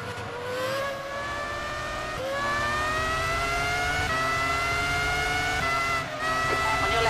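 Race car engine at the Interlagos circuit, a loud sustained whine that climbs steadily in pitch through the gears, with brief dips at the shifts, close and continuous.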